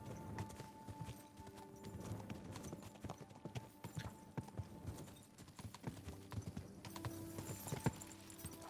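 Horse hooves clip-clopping at a steady riding rhythm in Kingdom Come: Deliverance II, medieval game audio with a busy ambient bed, a brief whinny possible, continuous throughout.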